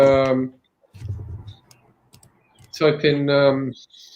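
A short burst of clicking keystrokes on a computer keyboard as a domain name is typed, sitting between stretches of close talking.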